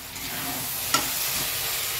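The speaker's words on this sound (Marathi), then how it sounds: "इकडे मसाला हा भाजायला चालू आहे" Masala roasting in oil in a pan gives a steady, close hiss of frying, with one short sharp clink of a utensil partway through.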